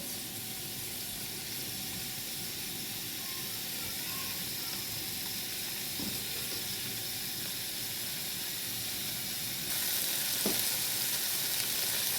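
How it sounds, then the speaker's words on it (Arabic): Sausage sautéing in a pan: a steady, fairly quiet sizzle and hiss runs throughout, with a couple of faint clinks of stirring, no voices heard. "احنا هنشوح الاول السجق، هنديله تشويحه منه فيه"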